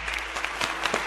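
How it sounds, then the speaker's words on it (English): A crowd of people clapping in steady, dense applause throughout, fairly close and loud, with brief sharper bursts standing out. "Yeah, clap it up for him, bro. Clap it up, clap it up."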